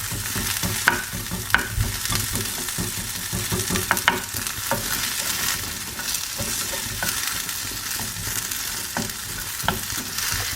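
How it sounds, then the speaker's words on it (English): A small onion sizzles in a pan, frying steadily up close, with frequent clinks and scrapes of stirring punctuating the constant crackle and no one speaking. "the first thing I'm going to do is pop in a onion. This is only a small onion"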